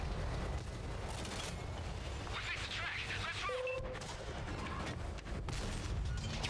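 Continuous rumbling battle noise in a tank video game, with distant artillery fire and booms blending into a steady loud wash throughout.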